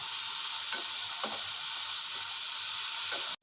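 Grated coconut cooks with date palm jaggery in a pan, giving a steady loud sizzle and hiss with occasional soft stirring scrapes, no voices.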